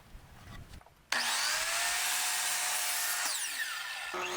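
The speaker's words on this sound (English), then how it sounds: "I used the miter saw to cut the pieces down to size" A miter saw slices through a wooden fence picket, starting abruptly after a moment of quiet and running as one loud, steady whine for about three seconds before the blade winds down.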